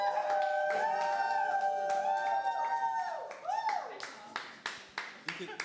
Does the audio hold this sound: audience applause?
yes